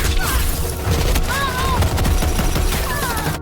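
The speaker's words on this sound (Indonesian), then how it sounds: "keadaannya sangatlah kacau karena tembakan tidak ada" Continuous battlefield gunfire from a war film, dense fusillades and machine-gun bursts with scattered booms, loud and chaotic throughout with faint shouting voices mixed into the din.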